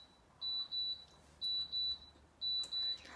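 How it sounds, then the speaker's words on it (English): A kitchen alarm beeps in three pairs of bright electronic tones at a steady rhythm, fairly loud above a quiet room, with no talk. "The alarm just went off."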